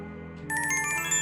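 A phone rings in the horror video game Corpse Factory, a steady electronic ringtone with bright sustained tones that starts abruptly partway through and continues to the end, loud and alone.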